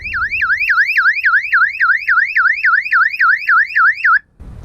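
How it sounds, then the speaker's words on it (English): A newly installed sailboat security alarm siren wails loudly and close, rising and falling in a rapid repeating sweep for about four seconds before cutting off abruptly. "I'm just finishing up the installation of this alarm."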